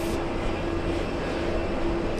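Airliner at JFK airport roaring during takeoff, a steady broad rumble with a faint sustained tone, distant and unbroken throughout.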